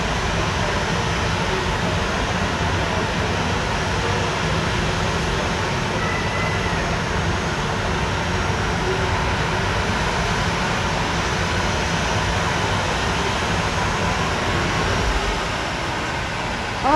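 Inside a Boeing 737-700 cabin on a trip in Luanda, the aircraft's engines produce a continuous, even roar and broadband rush that stays steady without pause.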